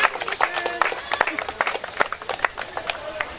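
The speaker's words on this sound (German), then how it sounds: "Bitte einen großen Applaus für sie." An audience at a gathering in a family park in Burgenland, Austria, gives a round of applause, with sharp scattered claps in a lively crowd, some voices mixed in.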